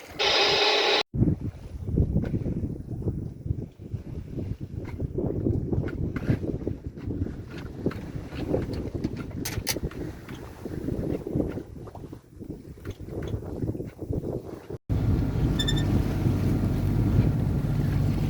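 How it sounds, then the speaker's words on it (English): Moderate wind buffets a sailboat making about five knots at sea under full sail, a loud, continuous rushing roar across the microphone with water noise, briefly cutting out near the start and again near the end. "Slight wind, moderate wind, not too bad."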